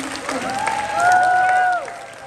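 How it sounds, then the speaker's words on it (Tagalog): A church congregation at a 14th-anniversary worship service in Dubai claps together for a couple of seconds, rising and then fading, while a voice sings or calls out over the applause. "Isa pa ulit palakpak para kay Lord!"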